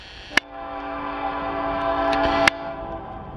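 A Norfolk Southern northbound mixed freight train passes in Marion, Ohio, its horn sounding as a loud, steady harmonic blast that holds for about two seconds, framed by sharp clanks from the rails.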